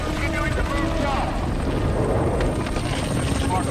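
Aircraft engines roaring through takeoff in a disaster film, a steady dense rotor-like drone filling the whole stretch with no pause.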